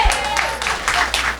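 An audience at a live radio event with a rapper applauds, a brief burst of clapping and crowd noise that holds steady for just over a second.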